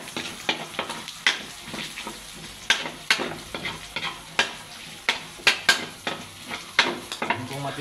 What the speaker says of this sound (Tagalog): ilalagay ko na ang bawang